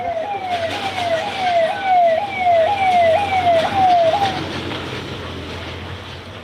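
An ambulance siren wails in repeated rising-and-falling sweeps on a market street as shops open after rain, loud and close at first, then cutting off after a few seconds and leaving steady street rumble.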